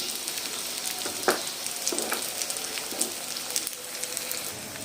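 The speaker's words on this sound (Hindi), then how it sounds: "हमारी गोंद जो है वो फ्राई हो चुकी है" Edible gum (gond) frying crisp in oil for halwa, a soft crackling sizzle with scattered pops and a couple of light utensil taps, fairly quiet and close, no voices.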